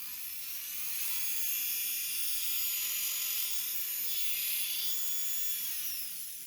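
A Urawa UP201 electric nail drill, adjustable up to 2000 RPM, runs with a steady high-pitched motor whine that stays even and close throughout, with no talking.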